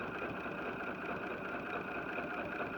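A BERNINA sewing machine fitted with an adjustable ruler foot runs at a steady, even pace while stitching along a seam or drawn line on quilting fabric, a continuous close mechanical hum with no pauses or voices.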